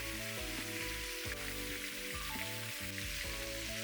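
Beef back ribs browning in a hot pan give a steady, dense sizzle that stays loud and even throughout, with faint crackles and a low hum beneath.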